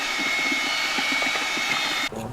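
A high-speed paddle mixer blending aggregate into HMLV epoxy mortar whirs with a steady, loud high-pitched drone and a gritty churn underneath, then cuts off abruptly near the end.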